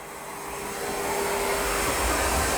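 Roborock Saros 20 robot vacuum and mop running across the center of a room, a steady whirring motor hum that slowly builds in loudness, close and continuous with no talk.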